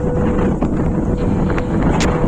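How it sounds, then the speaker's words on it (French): Strong wind gusts blowing across a microphone outdoors by a walled-up lakeside house in Provence, a loud, steady roar that buffets without pause throughout. "il y a beaucoup de vent aujourd'hui, hein, comme vous pouvez l'entendre et le voir"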